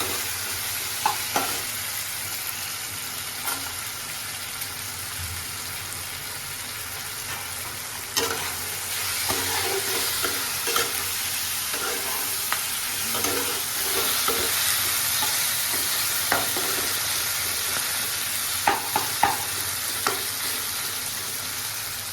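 Onions, tomatoes and cashews fry in a pan for a homemade butter chicken, a steady close sizzle throughout with scattered scraping clicks from a stirring spoon; no one speaks.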